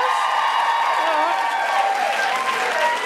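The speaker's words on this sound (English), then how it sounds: "can I just get a round of applause from all the people that are single?" A live audience at the Sydney Opera House bursts into sustained applause, dense clapping with a few cheers and whoops, steady and loud throughout.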